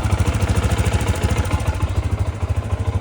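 A Lifan KPT 250 motorcycle engine runs close by after a valve clearance adjustment, with a steady, even idle thump and no other sounds.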